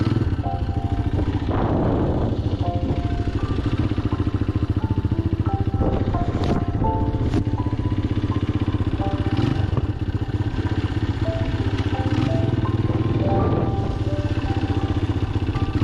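A fully restored, modified motorcycle with a handmade silencer and a misfire runs close by, its engine chugging in a loud, constant, uneven beat with a few sharper pops, heard on its own without talk.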